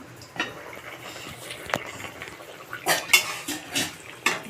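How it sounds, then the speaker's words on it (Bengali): A metal lid comes off a pot of potatoes, green banana and yardlong beans simmering for a fish curry, with a few sharp metallic clinks and scrapes close by against a quiet kitchen background. "ঢাকনাটা এবার খুলে দেখবো"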